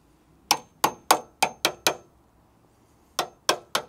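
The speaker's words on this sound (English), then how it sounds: "probably get the hammer and chisel in there, take that off without having to saw that separate piece off" Hammer striking a chisel to knock off a separate piece, likely on an older vehicle: six sharp metallic clangs in quick succession, a pause, then three more, close and loud with no talking.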